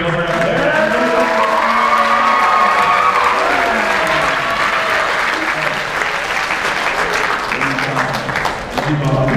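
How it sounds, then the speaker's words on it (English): A high school talent show crowd claps and cheers loudly for performers, with whoops and shouting rising over sustained applause that gradually thins toward the end. "can we get a round of applause for Lincoln Duke Christian Gilbert out there"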